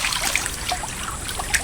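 Water poured over a hiking backpack to rinse it makes a steady, close splashing trickle that runs without a break for a couple of seconds, and nobody talks over it.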